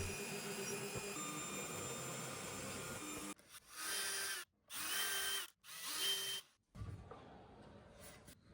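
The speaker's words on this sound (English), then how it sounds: "Holes can then be drilled and countersunk for screws" Power drill boring holes into wooden slats of an Art Deco style cabinet: a long whirring run, then three short high-pitched bursts separated by brief silences, close and loud with no speech.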